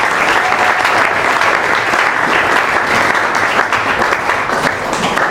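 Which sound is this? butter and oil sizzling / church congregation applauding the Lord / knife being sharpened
church congregation applauding the Lord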